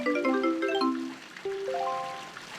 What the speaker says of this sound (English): Grab us some water here.